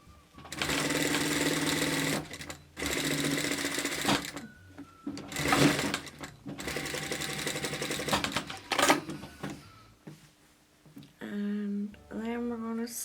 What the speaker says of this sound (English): I'm going to give this a wee top stitch